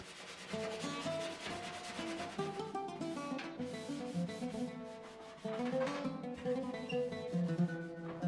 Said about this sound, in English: Time to scrub these off.